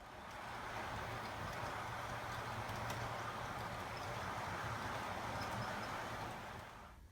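A steady, even rumble of a model train running along layout track, constant throughout with a soft rolling hiss and no voices.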